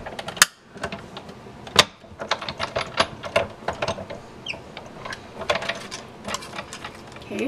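A hand-cranked die-cutting machine feeds paper through Framelits dies, giving a string of close clicking and ratcheting mechanical sounds with uneven rhythm and a few sharper knocks.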